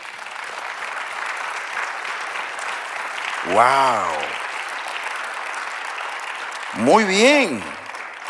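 Congregation applause during a Spanish-language church sermon, steady clapping throughout with a voice breaking in twice with short exclamations over it.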